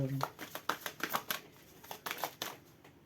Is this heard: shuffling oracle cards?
yes